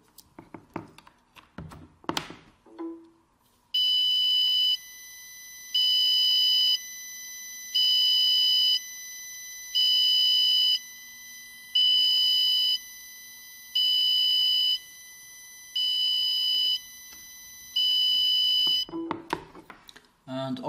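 An Arduino-driven piezo buzzer plays a tune as a run of loud, shrill electronic tones in eight evenly spaced bursts, with a little speech before and after.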